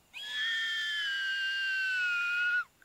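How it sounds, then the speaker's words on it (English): In Corpse Party: Blood Drive, a character lets out one long, high, piercing scream that holds steady for over two seconds and then cuts off sharply, with no other voices. "I feel her throat hurting with that scream"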